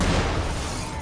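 A grenade blast in the shooter game Wolfenstein: The Old Blood, a loud, dense low boom that fills the short stretch and fades slowly, with no talk over it.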